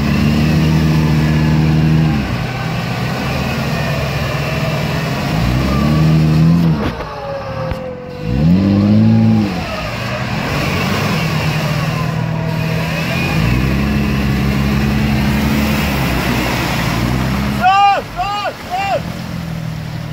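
A GAZ-69 off-road vehicle drives through a ford, its engine droning steadily and revving up and down, loud and close, with voices talking over it and a brief squeal near the end.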